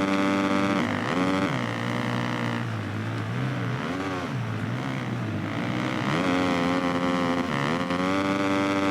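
A motocross bike engine in the video game MXGP 2019, revving steadily at high pitch with its tone rising and falling through gear changes, loud and continuous throughout.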